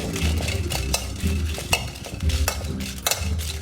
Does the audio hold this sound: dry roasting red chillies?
yes